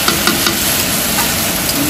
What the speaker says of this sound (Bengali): এই সাবাস, পেঁয়াজ আর টমেটো ভালো করে ভেজে নিতে হবে।